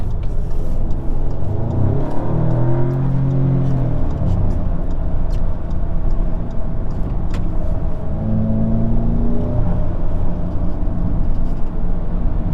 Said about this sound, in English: I'm going onto the highway right now in dynamic mode, just to show you guys how quickly it gets up